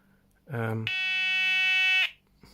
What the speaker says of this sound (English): that's the ringing of the phone